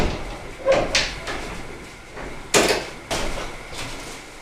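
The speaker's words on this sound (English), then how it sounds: "Now we just need to hang the door." A bathroom door being rehung on its hinges, giving a few sharp knocks and thuds of wood and metal hardware at irregular intervals, fairly close, with no voices.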